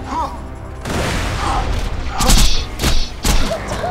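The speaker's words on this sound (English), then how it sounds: "Can you throw the grenade at him this time?" Video game grenade explosions and gunfire, loud booming blasts and sharp cracks in several bursts over continuous game noise, with a voice speaking briefly.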